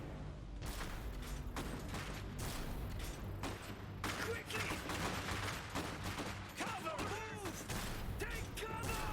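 Gunfire in the real-time strategy game Iron Harvest during an attack on an enemy headquarters: repeated sharp bursts and volleys over a continuous battle din, fairly faint, with brief talk at times.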